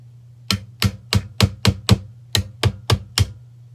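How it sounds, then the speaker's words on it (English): A rubber mallet taps a pre-64 Winchester Model 70 rifle stock, giving eleven firm, evenly spaced knocks in two quick runs over a steady low hum. "So I kind of worked it a little bit with a rubber mallet, just kind of tapping it in some different spots"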